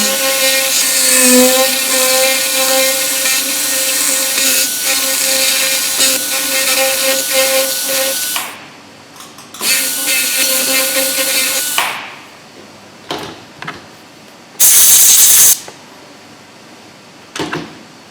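A dental drill whines as it flattens the gingival step of a Class II cavity in preclinical practice. The loud, steady high-pitched tone runs for about eight seconds, then returns in shorter bursts separated by quiet gaps.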